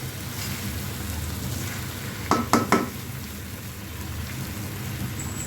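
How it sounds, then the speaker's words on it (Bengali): Spices and a rui fish head stir-frying in a kadai for Bengali muri ghonto, a steady close sizzle with a quick run of three metal spatula clinks partway through. "মশলাটা যাতে ভালোভাবে ঢুকে যায় একটু কষাই নিচ্ছি।"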